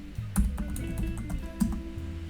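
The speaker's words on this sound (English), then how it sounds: "type in a password" Quiet keystrokes on a computer keyboard as a password is entered during an Arch Linux install, a few soft taps scattered over a steady background hum.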